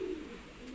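Racing pigeons coo at a loft landing board, a single soft low coo near the start followed by quiet ambient hiss.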